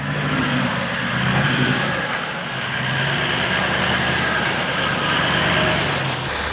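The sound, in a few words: Toyota 40 Series V8 engine driving through snow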